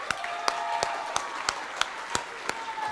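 A senior awards graduation audience claps in a steady, rhythmic beat, about three sharp claps per second over a soft crowd wash, moderately distant.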